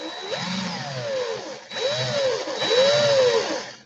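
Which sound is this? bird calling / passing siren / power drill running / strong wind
power drill running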